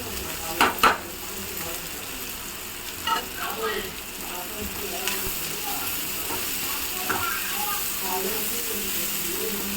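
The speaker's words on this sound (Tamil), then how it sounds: "இந்த இறா வந்து இந்த வெங்காயத்து கூட போட போகிறோம்" Fried prawns tossed in with frying onions in a pan, a steady close sizzle with a few clanks and scrapes of stirring, while a voice talks over it.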